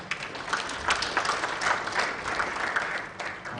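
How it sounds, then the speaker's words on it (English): Sustained audience applause at a live-streamed event in Kigali, a dense wash of many hands clapping at moderate distance, steady throughout with light crowd murmur and no clear speech. "Another round of applause."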